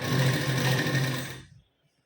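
A sewing machine runs a steady stitching burst while joining blouse piping strip at a half-inch seam margin, a close mechanical whir that stops abruptly near the end, leaving silence.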